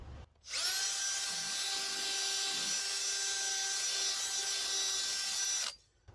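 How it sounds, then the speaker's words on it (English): A hand-held mill whines at a steady high pitch for about five seconds, cutting out a part on the exhaust of a 1964 Suburban, then stops abruptly. "we'll mill it out with our hand mill"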